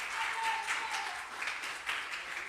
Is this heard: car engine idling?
no